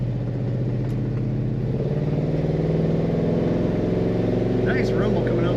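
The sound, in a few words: 1968 Oldsmobile Cutlass S exhaust rumble from tailpipe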